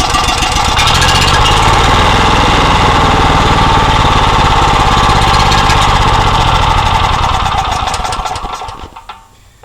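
A portable generator engine running on starting fluid roars loud and close in a steady rapid chatter for several seconds, then sputters and dies away at the end.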